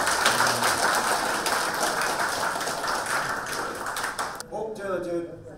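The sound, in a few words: audience clapping in praise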